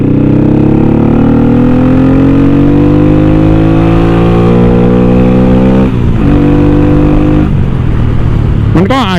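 A motorcycle fitted with a Hi-Speed kit, a 57 mm cylinder and 13-26 sprockets accelerates hard in second gear. Its engine tone climbs steadily and loudly over several seconds, then briefly drops and rises again near the end.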